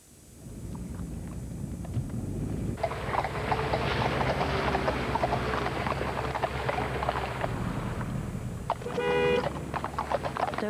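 Horse hooves clip-clop on a road at a walking pace, moderately near, with faint background rumble and a brief rattling burst near the end.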